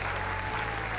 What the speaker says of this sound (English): Applause breaks out in the room.